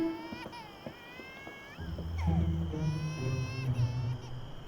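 A baby cries in repeated wavering wails that rise and fall, with a lower voice murmuring underneath in places.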